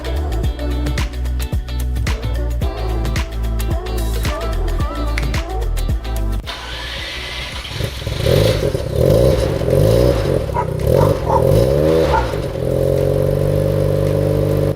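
Rotary engine of a Mazda RX-7 FC3S revs in sharp repeated bursts, then settles into a loud, steady running drone with a rougher, higher-pitched rasp, heard up close with no talking.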